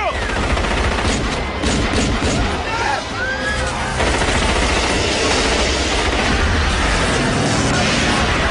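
Loud, sustained volley of gunfire in a dramatic scene, dense overlapping shots crackling without pause for the whole stretch, with voices faintly under the din.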